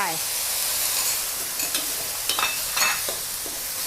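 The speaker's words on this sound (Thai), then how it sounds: "ผัดเลยค่ะ" Minced pork stir-fried with sauce in a wok over high heat, a steady loud sizzle running throughout with scraping stirs and clanks of the spatula against the pan.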